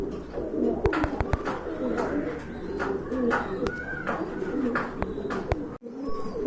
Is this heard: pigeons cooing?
yes